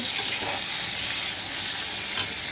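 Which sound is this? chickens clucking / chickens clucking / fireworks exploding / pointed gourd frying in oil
pointed gourd frying in oil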